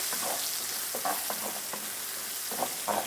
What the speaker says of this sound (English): So our onions are already cooking.